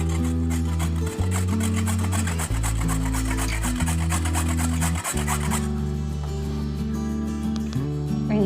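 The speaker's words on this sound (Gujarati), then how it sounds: "તો અહીંયા મેં એક છીણી લીધી છે, એના વડે આપણે બધી જ હળદરને આવી રીતે છીણી લઈશું" Peeled fresh green turmeric being grated on a hand grater, a steady run of rough rasping strokes, close and continuous, with loud background music throughout and no talk.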